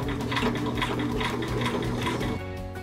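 Sewing machine top-stitching a fabric pencil case: a steady, close, continuous run of rapid rhythmic stitching that eases slightly at the end.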